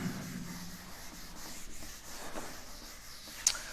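A pen scratching out rough working on paper while solving a geometry exercise about triangles, a steady soft rubbing scrape that runs continuously, close and fairly quiet, with a sharper tick near the end.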